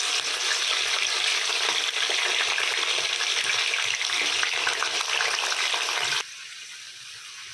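Whole spices such as cardamom, cinnamon, pepper, cloves and shahi jeera frying in oil in a pan, a dense close sizzle that holds steady, then drops sharply to a softer hiss near the end.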